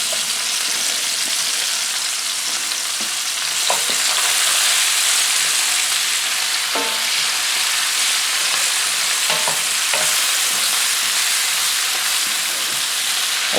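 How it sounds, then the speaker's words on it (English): Onions and cored apples cook in a hot pan with a continuous loud sizzle, broken by a few brief scrapes from stirring, with no voices. "We're going to add our onions and our cored apples."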